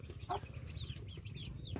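Chickens drinking water make soft, scattered clucks and chirps close by over a low background hum.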